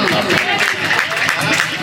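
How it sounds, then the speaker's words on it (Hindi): An audience applauds an honoured guest at a community gathering, a dense steady wash of many hands clapping, with voices mixed in. "दीजिए जोरदार ताली मास्टर साहब के लिए, एक बार जोरदार ताली"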